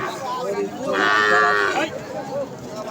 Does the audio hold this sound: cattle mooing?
yes